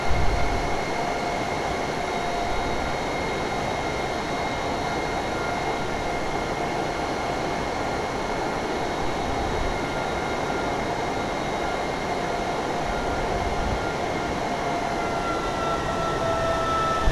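Turbojet engines of the Darkstar aircraft in a flight video game, a steady loud roaring drone with a faint high whine, continuous and unchanging throughout with no voices.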